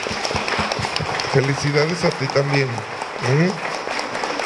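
Applause rattles on steadily beneath a voice speaking over it, the clapping dense and mid-distance throughout, during a wedding Mass in a church in Guanajuato, Mexico.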